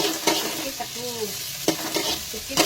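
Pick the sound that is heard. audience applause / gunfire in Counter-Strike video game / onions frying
onions frying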